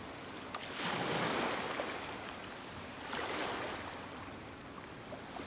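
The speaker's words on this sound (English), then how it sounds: "The sound of the ocean waves." Ocean waves from the video game Genshin Impact wash in two broad, hissing surges, moderately loud and steady, with no voices present.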